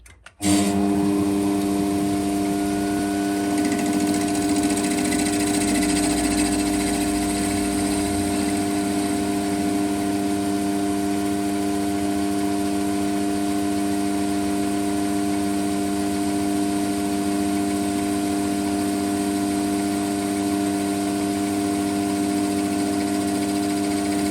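A lathe spinning up and running steadily to face off the top of a tobacco pipe bowl, a sustained, even mechanical hum and whine that is close and fairly loud, with no talk.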